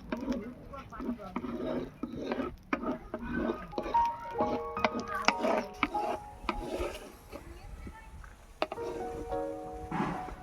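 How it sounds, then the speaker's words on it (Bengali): Green chillies frying in a kadai for a Bengali bharta, a soft crackle with scraping and clinks of a spatula against the pan, close and steady for several seconds. "ভর্তার জন্য প্রথমে আমি লঙ্কাটা ভেজে নেব।"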